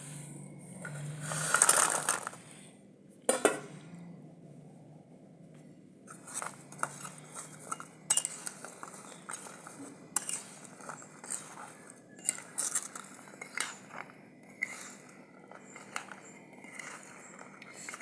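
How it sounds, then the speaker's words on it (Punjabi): Deep-fried shakarpare tipped and stirred into thick homemade sugar syrup in a pan in a Punjabi village kitchen, giving a run of close, irregular crunchy scraping and clattering taps after a louder opening clatter. "ਹੁਣ ਆਪਾਂ ਵਿੱਚ ਸ਼ਕਰਪਾਰੇ ਪਾ ਦੇਾਂਗੇ"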